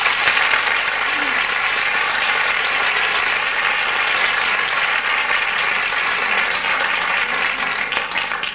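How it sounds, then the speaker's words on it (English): A big round of applause from an audience after a choreography competition dance performance, loud, dense and sustained throughout without a break. "Big round of applause."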